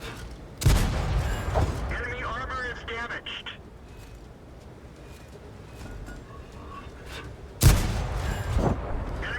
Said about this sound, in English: I'm just firing as much as I can, as fast as I can here.